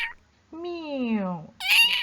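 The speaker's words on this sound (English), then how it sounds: "meow." A cartoon cat gives one long, loud, clear meow that slides downward in pitch, with brief voice fragments just before and right after it.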